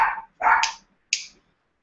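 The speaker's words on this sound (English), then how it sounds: "that's my dog right there." A dog at home barks in a few sharp yips, two quick close barks and then a shorter, higher one after a pause, loud and near with no talking over them.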